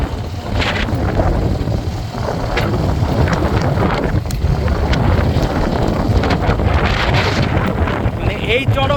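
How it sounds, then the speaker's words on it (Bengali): Strong wind gusting over open water, buffeting the microphone with a loud, steady low roar, with faint splashing and possible boat noise underneath. "এই যে এখানে পানিগুলো দেখেন কিরকম হচ্ছে বাতাসে"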